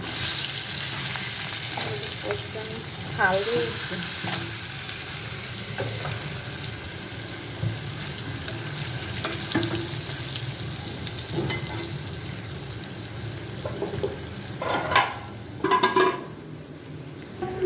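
Fish is frying in a pan over a home stove, giving a continuous loud sizzle throughout, with occasional clatters and stirring noises on top.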